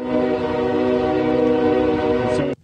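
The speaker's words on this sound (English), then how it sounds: "While testing, we could hear trains passing every minute" A passing freight train near East Palestine sounds a long, loud, steady horn blast that holds for over two seconds and then cuts off abruptly, with the rumble of the rail cars underneath.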